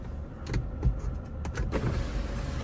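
Sunroof motor of a 2014 Cadillac ATS 2.0T AWD running inside the car, a close, steady electric whir broken by a few soft clicks and thumps.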